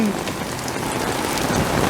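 Heavy rain pours down in a dense, steady hiss, drumming on a nearby surface without a break.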